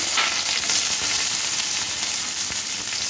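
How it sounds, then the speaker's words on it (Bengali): Black cumin, dried chili and chopped onion sizzle steadily in hot oil, a loud, even hiss throughout with no talking. "এবার এই তেলে ফোড়ন দিয়ে দেব কালো জিরে, শুকনো লঙ্কা, কেটে রাখা একটা পেঁয়াজ"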